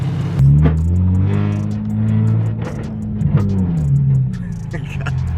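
A loud car engine revs and rumbles steadily, rising and falling in pitch, with someone talking over it.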